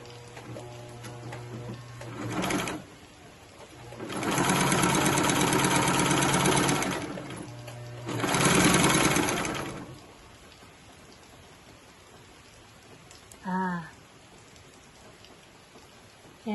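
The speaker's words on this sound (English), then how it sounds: "So press your foot down, hold on to your threads. And you get a straight stitch here." An industrial sewing machine such as a Rex 607z or Consew runs a straight stitch through fabric in two sustained whirring bursts of several seconds each, close and loud, with quieter handling between.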